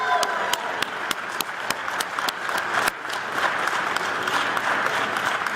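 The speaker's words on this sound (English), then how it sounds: "A round of applause for last year's honorees" A crowd at an annual Man of the Year awards event applauds last year's honorees, a dense, sustained burst of clapping that stays loud throughout with sharp individual claps standing out near the start.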